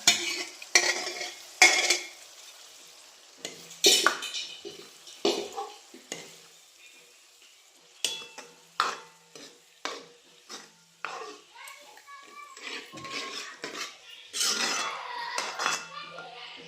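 A spatula scrapes and clatters against a pan in repeated irregular strokes while chopped pumpkin and green chillies sizzle steadily underneath.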